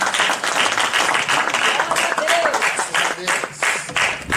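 A church congregation breaks into dense, sustained applause, many hands clapping at once with some voices mixed into the crowd noise.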